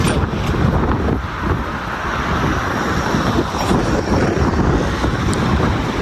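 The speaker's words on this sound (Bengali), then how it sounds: "প্রচুর হাওয়া আইতেছে" Strong wind buffets the microphone at a bus stop in Dammam, Saudi Arabia, a loud continuous roaring rush with gusty swells and passing traffic underneath.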